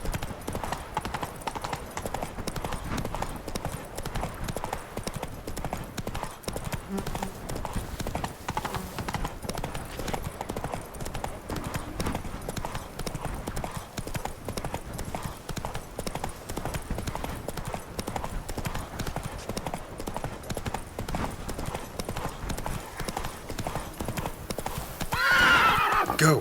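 Horse hooves clip-clopping in The Witcher 3 game, a steady rhythmic trot of even, close hoofbeats that runs continuously, with a horse whinny among them and a louder burst near the end.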